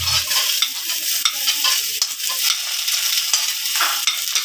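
Chopped onion and garlic fry in hot oil for a peanut bharta, giving a steady, close, dense sizzle that runs the whole time, broken by frequent scraping stirs and small spattering crackles, with no one talking.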